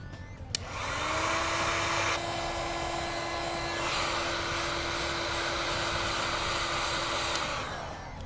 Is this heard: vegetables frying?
no